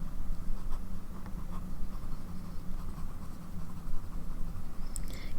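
Fountain pen nib, struggling with railroading, scratches ink across paper in soft, continuous strokes, close up and faint, with a few brief taps near the end.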